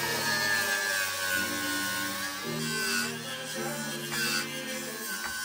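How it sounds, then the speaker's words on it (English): Wire wheel spun on an angle grinder stripping underseal from a rotten BMW E46 M3 body, a steady high whine with shifting tone as the brush bites, continuous and close with no talk. "Easiest way, wire wheel on a grinder,"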